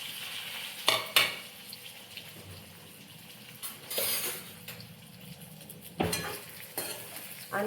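Suji tikki frying in an oil tempering of mustard seeds, cumin, sesame and green chillies makes a soft, quiet sizzle, broken by several sharp clatters of stirring against the pan.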